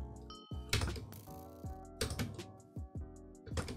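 Bow shots in Minecraft Hypixel Bow Duels, heard as a handful of quiet, separate thunking releases with short gaps between them and no talk over them.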